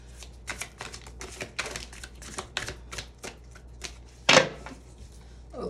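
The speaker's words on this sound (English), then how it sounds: "Now y'all saw how much I done shuffled and broke up this deck." A tarot deck is shuffled by hand in quick rhythmic riffles, a steady run of soft papery flicks and slaps up close. One sharp snap of cards follows, with no speech.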